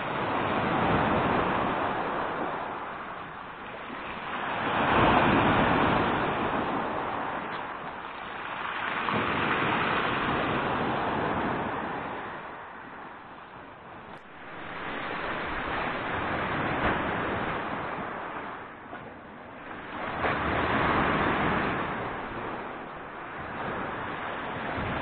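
Sea waves wash onto Grenada beach at Lazarevskoye, Sochi, in slow surges that swell and fade every few seconds, fairly loud and close, with no talk over them.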